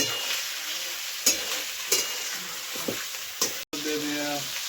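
Chicken pieces frying with spices in a pan, a steady sizzle throughout with several sharp scrapes and clanks of stirring, close and moderately loud.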